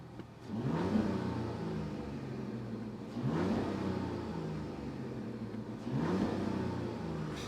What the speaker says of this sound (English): This is the sound of the 6-cylinder